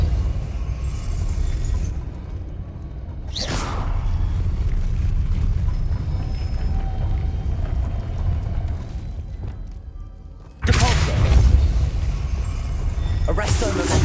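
Hogwarts Legacy Depulso spell blasts, two sharp whooshing bursts, one early and a louder pair near the end, over a steady low rumbling ambience with a voice speaking.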